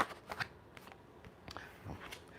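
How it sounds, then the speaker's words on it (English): A deck of tarot cards riffles and flicks in quick, crisp bursts, close and fairly quiet, with light handling noise between shuffles. "I like the way that shuffle."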